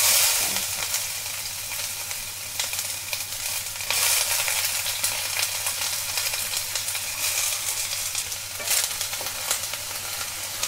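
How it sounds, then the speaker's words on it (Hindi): Onion fries in hot oil in a kadhai with a steady crackling sizzle and intermittent stirring scrapes, close and continuous without talking. "और प्याज को हम थोड़ा सा भून लेंगे"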